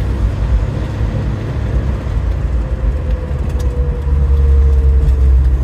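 A 1997 Subaru Sambar Dias II supercharged with a CVT gearbox drives along, its engine and road noise a steady low rumble with a faint rising whine as it accelerates smoothly, heard from inside the cabin.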